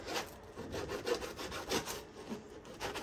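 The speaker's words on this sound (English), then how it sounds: "either this bread is super, super strong, or this knife is dull" Bread sawn with a dull knife while making a Cubano sandwich: steady rasping back-and-forth strokes, close and moderately loud, with no talk.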